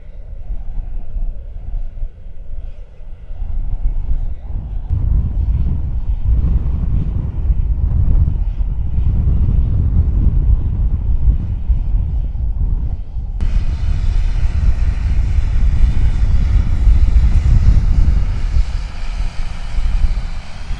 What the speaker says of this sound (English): Quite breezy today now, it's probably 12-14 miles an hour wind